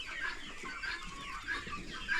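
Improved Kienyeji chicks, about seven weeks old, chirp and cluck steadily in a poultry brooder, a faint, continuous chatter from many birds with no voices.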